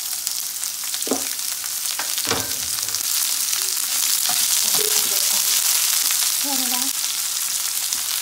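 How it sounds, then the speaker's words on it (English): Two chopped onions frying in spice-infused oil for Indian red curry, a close, constant hiss and sizzle with occasional clinks of stirring, no talk. "Now that the spices were cooking, we're gonna add our onions, and that's the 2 onions I chopped up."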